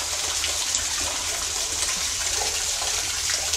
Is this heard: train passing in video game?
no